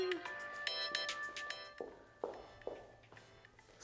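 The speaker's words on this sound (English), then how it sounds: "And that is a phone call." A faint electronic ringtone melody plays, with tonal chimes and a few soft taps, fairly quiet and distant.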